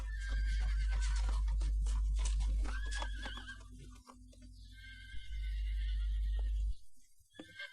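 An injured horse neighing loudly and repeatedly at close range, long shrill whinnies over a deep low rumble, with a brief quieter gap before more calls and a soft fade at the end.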